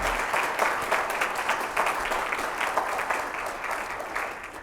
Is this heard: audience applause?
yes